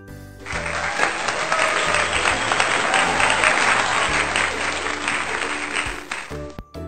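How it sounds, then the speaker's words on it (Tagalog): Loud, sustained applause from a kindergarten class, steady clapping lasting several seconds before cutting off abruptly. "Napakalakas na palakpak."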